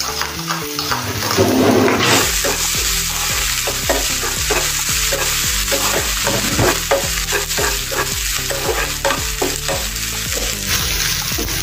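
Loud sizzling and crackling from a hot pan of frying spices, including crushed chili and cumin, with steady frying noise and repeated scraping of a spoon stirring, no voices.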